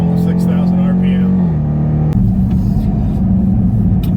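A 2022 Dodge Durango R/T's Hemi V8 revs hard to almost 6,000 RPM and holds a steady high note, then drops and shifts into a rough, rumbling exhaust roar, loud and close.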